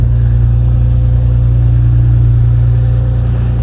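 A wrecked Audi R8 runs steadily through its dual exhaust, a loud, close, droning engine note with a strong low hum and no clear rise in revs over the few seconds.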